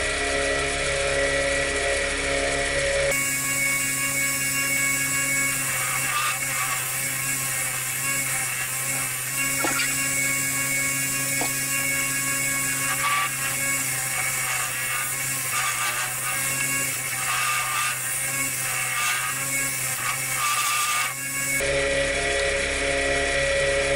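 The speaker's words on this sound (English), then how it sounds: "I'll get the scraper on it now." On a wood lathe, a turning scraper cuts a bowl of very hard wood, giving a steady scraping hiss with uneven chatter over the spinning lathe's constant hum, close and continuous through the middle of the recording.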